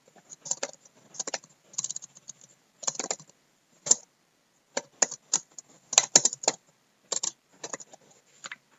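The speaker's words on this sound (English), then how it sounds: "I'm going to type it out first" Typing on a computer keyboard, heard close up in irregular bursts of rapid keystrokes broken by short pauses, with no one talking.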